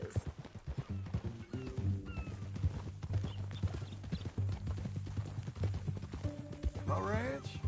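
Hoofbeats clip-clop steadily beside a horse in Red Dead Redemption 2, with a short whinny rising near the end, all heard under conversation and continuous game ambience.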